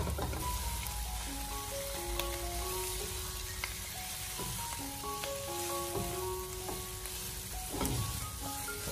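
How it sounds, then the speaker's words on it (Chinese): Blistered green chili peppers and aromatics are stir-fried over low heat in a wok for tiger-skin peppers, a steady, fairly quiet sizzle with faint stirring clatter under soft background music. "然后再继续的开小火给它翻炒一下，把它翻炒均匀。"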